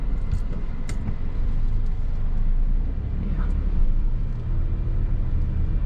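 A Kia Sonet GT Line petrol car pulls away in first gear without the clutch, its engine a loud low rumble close by, with a few brief higher clicks early on.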